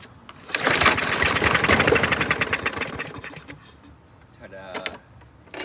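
A 2017 Yard Machines walk-behind lawn mower engine, started with carb cleaner, fires up and runs in a rapid loud chatter, then fades and sputters briefly.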